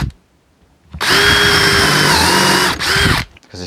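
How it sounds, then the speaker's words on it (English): A power drill whines loudly for about two seconds while drilling holes into wood, briefly dips in pitch, then revs again before stopping, close by with no talking. "I'll drill some holes into the back"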